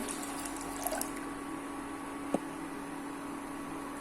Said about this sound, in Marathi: भांडं ठेवायचं आहे गरम करायला आणि पाणी टाकूया थोडंसं